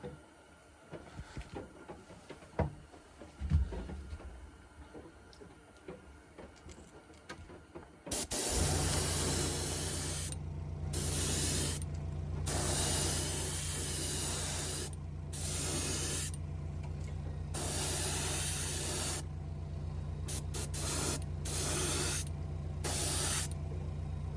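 Spray gun laying Blood Red Candy 2.0 candy paint over a surface, a loud steady hiss in repeated bursts of several seconds with short pauses, over a constant compressor hum, after a quieter stretch of handling noise.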